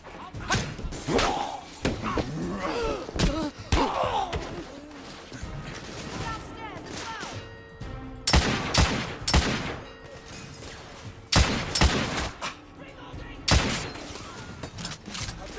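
Shotgun blasts in the video game The Order: 1886 ring out as a string of loud, sharp bursts in a hectic firefight, mixed with shouting voices and general battle noise.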